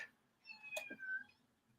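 A house cat lets out one short meow, faint but clear against a quiet room background.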